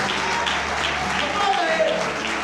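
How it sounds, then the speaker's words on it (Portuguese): Applause from a church congregation during a worship ministry, steady and dense throughout, with speech and background sound mixed in. "eu gostaria que você aplaudisse a Ele."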